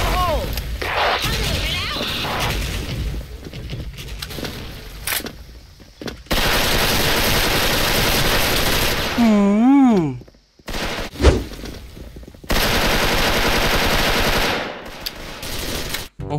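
Loud bursts of rapid automatic gunfire from an M4 rifle in the video game Special Force, with brief pauses between volleys and a sharp rising whine in the middle.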